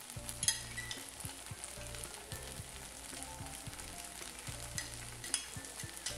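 Sardine, deboned and cleaned, goes into a pan of pasta and is stirred in, bringing a steady close sizzle of frying oil with soft scraping stir strokes and a few small clinks.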